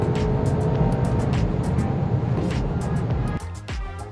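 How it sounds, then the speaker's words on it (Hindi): Volkswagen Golf GTI hot hatch driven on a speed track, its engine droning steadily with road and wind roar, a brief dip and shift in tone near the end. "आइए आजमाते हैं Volkswagen Golf GTI को on the race track, on the speed track"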